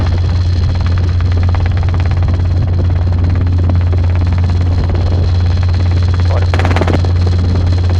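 A Robinson R22 helicopter on approach gives off a steady low rotor and engine drone heard from inside the cabin. It stays loud and constant, with a brief radio-like burst partway through.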